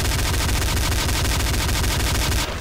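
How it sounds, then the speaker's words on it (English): Sustained rapid-fire gunfire in Counter Strike Source, a dense, loud stream of shots at near range running almost unbroken before cutting off abruptly. "Oh, I'm shooting at my teammate."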